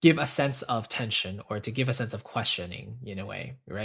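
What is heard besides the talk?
No distinct noise like a dog, phone or traffic.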